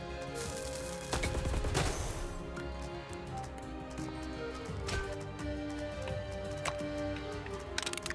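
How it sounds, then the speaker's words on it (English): Many rockets fire at once in the video game Flick Shot Rogues, a dense, loud barrage of overlapping blasts with a heavy burst near the start and scattered explosive hits over steady game music. "that's a lot of rockets"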